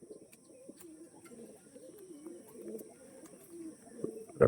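Pigeons, including a large lively bird with pure purple (jamuni) feet, coo softly and steadily in a loft, a low continuous murmur of calls with a sharper burst at the very end.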